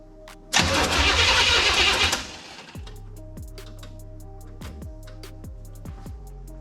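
A 1972 Chevrolet Nova opens with a loud, sustained burst of starter whine for about a second and a half. It then falls into a steady rhythmic cranking, with regular repeated chugs as the engine turns over without catching.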